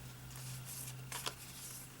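Scissors cutting around a traced shape in cardstock: a quiet, steady papery rustle with a couple of sharper snips near the middle, close by and with no talking.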